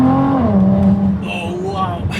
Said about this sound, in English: get the turbo sounds and the exhaust, because this car has the Quicksilver exhaust